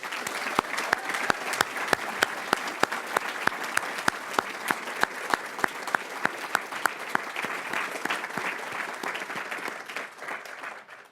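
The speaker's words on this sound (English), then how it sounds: "one more round of applause to all the winners and all the graduates here" Audience applauding award winners and graduates at a university undergraduate awards ceremony, a steady, dense clapping from a sizeable crowd that holds for about ten seconds before beginning to thin out.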